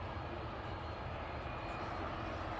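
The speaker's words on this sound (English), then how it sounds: "let's go back to our 330 over here, which is on taxi" An Airbus A330 airliner taxiing at Dublin Airport, heard as a steady, low jet engine rumble and broadband hum held at constant level throughout, with no voices.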